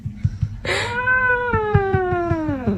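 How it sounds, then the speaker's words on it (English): A cat lets out a long, loud, drawn-out meow close by, with light rustling and soft thumps underneath. "His meow is so cute."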